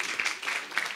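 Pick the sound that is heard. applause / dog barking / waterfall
applause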